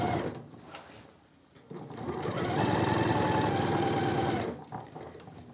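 A sewing machine runs a stabilizing seam along the neckline of a pyjama top, giving a close, steady rhythmic clatter that starts after a short pause and stops near the end.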